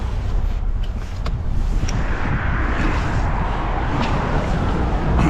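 An old borrowed car's engine running rough while driving, sounding close to breaking down: a loud, continuous low rumble with a coarse, uneven drone and wind buffeting throughout.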